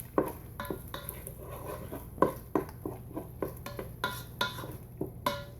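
Burger grease being drained from a Ninja Foodi pot: a run of light clinks and scraping knocks of metal against the pot, irregular and close, over a faint background hum, with no talk.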